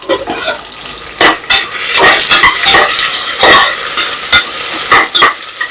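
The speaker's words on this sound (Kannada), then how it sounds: "ಈರುಳ್ಳಿ ಫ್ರೈ ಆಗುವಾಗ" Onions frying in a pan, sizzling loudly while a utensil scrapes and stirs against the pan in irregular bursts, close up.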